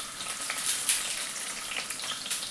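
Onion sizzles in hot coconut oil with mustard seeds for a chicken curry, giving a steady, close hiss with small crackling pops throughout.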